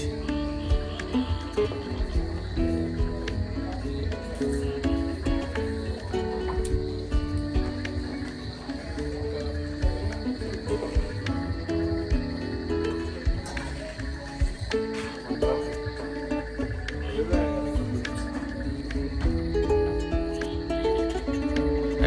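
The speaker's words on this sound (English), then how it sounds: "the crickets sing melodies from their hiding places" Crickets chirping at night in Nzulezu, a stilt village on water in Ghana, a steady dense insect chorus mixed with other faint night sounds, continuous and fairly close.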